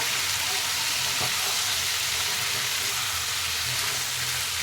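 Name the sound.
stirring frying carrots, peas and potatoes in a wok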